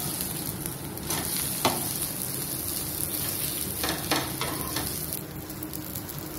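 Rava dosa with onions sizzles steadily on a hot pan while being pressed down, a soft continuous frying hiss broken by a few light scraping and tapping clicks, with no voices.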